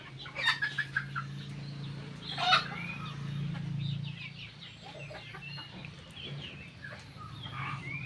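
Chickens and roosters kept for meat cluck in a backyard coop, with a few sharp close calls early on over a steady low hum; no one speaks.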